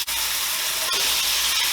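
Chopped purple onion sizzling in a lightly oiled pan while cooking vegetarian pasta, a steady close hiss and crackle that runs without a break and without talk.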